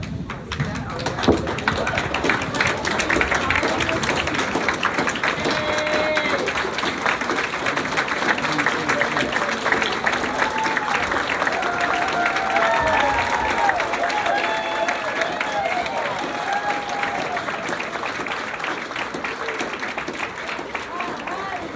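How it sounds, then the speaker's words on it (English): Audience applause for graduating MSW students at a university hooding ceremony, sustained and steady for the whole stretch, with scattered voices and faint talk running beneath the clapping. "I think we all should stand and give them a big round of applause."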